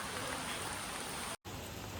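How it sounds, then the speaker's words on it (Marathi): Heavy rain pours steadily during a cloudburst in Sindhudurg, a dense continuous hiss of falling water with a brief dropout near the end before the downpour resumes. "सकाळपासून खूप जास्त पाऊस पडतोय"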